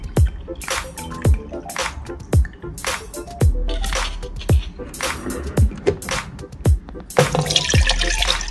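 Water is poured for coffee, with loud, close splashing and liquid bursts alongside repeated sharp thuds in an uneven rhythm, and a brief hiss of running water near the end.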